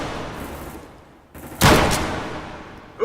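A single loud shot or blast from video game combat bursts out mid-clip and decays over ambient rumble, with a smaller pop just at the end.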